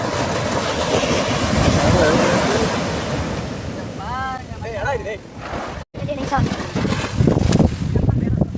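Sea waves roll and crash on the shore at Dhanushkodi amid strong wind buffeting, with people talking briefly in the middle.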